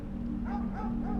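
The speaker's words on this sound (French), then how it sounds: "Le chien du voisin a recommencé à aboyer." A neighbour's dog lets out a few short, yelping barks in quick succession, faint and somewhat distant over a steady background hum.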